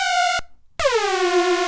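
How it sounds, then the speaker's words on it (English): A bright, harmonically rich industrial techno synth with fast pitch envelope modulation plays two loud notes, the second swooping sharply down in pitch before holding steady, with a brief gap between them. "But now you have your pitch modulation, it sounds like this."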